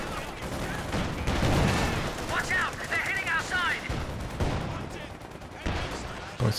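Gunfire in a Company of Heroes 2 battle, rattling bursts and distant booms mixed with battlefield clatter, while a voice talks over the fighting.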